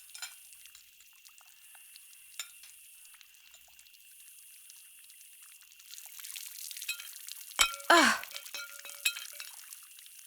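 Water trickles and splashes briefly as something is washed in Xenoblade Chronicles 3, a faint quiet scene that swells into a short, close pouring burst before fading.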